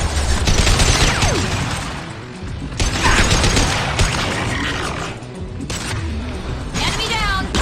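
Gunfire from Mass Effect 2 combat, with loud bursts of shots and booms arriving in dense clusters, mixed with mechanical clanks and game voices calling out amid the firefight.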